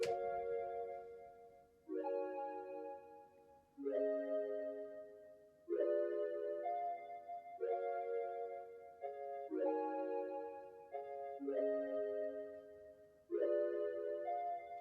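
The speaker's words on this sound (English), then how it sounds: "It was originally a pad, so I wanted it to be more of a pluck sound." Pluck synth, reshaped from a pad, plays an R&B MIDI loop of seventh and ninth chords: a series of soft chord stabs roughly every two seconds, each decaying before the next, quiet and with no voices.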